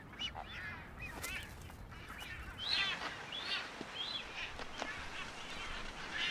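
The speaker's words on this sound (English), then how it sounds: "A little finch, a sharp-beaked ground finch." A sharp-beaked ground finch calls on sparse, seabird-crowded Wolf Island: thin, rising chirps repeat at moderate distance over a steady, rough background of other bird noise.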